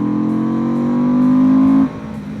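A Benda BD500 motorcycle engine revs up loudly and close, a rising growl climbing in pitch for nearly two seconds before dropping off abruptly as the throttle closes, with no talking.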